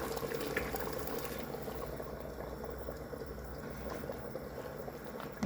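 Chicken tagine broth with peas and carrots simmers in a pot, a steady soft bubbling and gurgling with a faint constant background, heard close and without talk.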